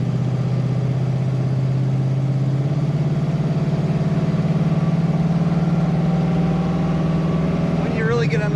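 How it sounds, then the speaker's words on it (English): A 1950 Dodge Business Coupe street rod fitted with a later-model V8 runs steadily up close, its exhaust a deep, continuous thumping rumble that holds throughout before a brief shift near the end. "Get on the throttle, it has a nice thump to the exhaust"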